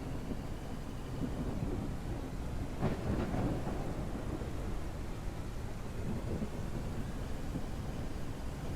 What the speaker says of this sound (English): It actually looks like a real rainstorm.